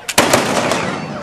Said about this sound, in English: Those two gentlemen just fired off blunderbusses